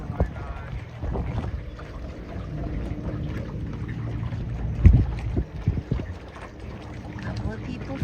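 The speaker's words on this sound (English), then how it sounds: "Sailing in the harbor all by ourselves." A sailboat glides through a quiet harbor in the off season, with steady wind buffeting and water wash around the hull. Voices talk over it, and a brief knock sounds near the middle.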